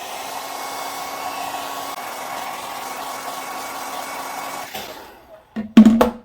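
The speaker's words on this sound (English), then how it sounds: "you can use a hairdryer or a heat gun." A hair dryer blows in a steady, loud whir for several seconds, drying sodium silicate on a clay slab, then switches off, followed by a couple of sharp knocks.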